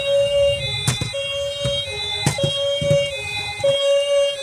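A toy ambulance's electronic siren wails in a steady high two-tone pattern, close and loud, punctuated by repeated sharp clicks and knocks from the toy being handled.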